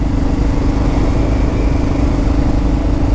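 A Kawasaki KLR 650 motorcycle engine drones loudly and steadily while being ridden, a close, continuous mid-pitched thrum with wind noise layered on top.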